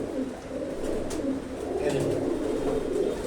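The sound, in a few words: pigeon cooing while held in hand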